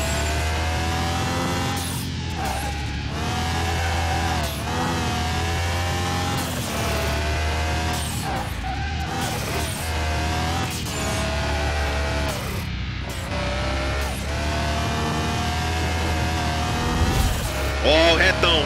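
A Nissan Skyline GT-R R34 accelerates hard with a loud, close engine roar, its pitch repeatedly climbing and then dropping at each gear change, and a voice is heard talking now and then.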